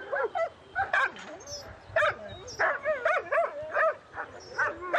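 Dogs at an animal shelter bark and yip repeatedly in a loud, close chorus of overlapping sharp calls and whimpers, with no speech.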